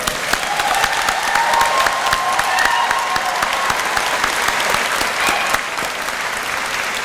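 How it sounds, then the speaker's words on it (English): Audience applause at an LPN nursing pinning ceremony, a steady wash of many hands clapping that fills the hall for about seven seconds without letup. "we can go ahead and give them a nice applause"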